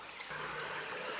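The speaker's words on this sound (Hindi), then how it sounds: "1-2 चम्मच के बराबर पानी डाल दिया ताकि जले ना।" Water splashed into a pan of frying spices (salt, red chilli, crushed chilli, cumin, coriander, turmeric and chaat masala) for chicken curry gives a faint, steady hiss and trickling sizzle with no voices.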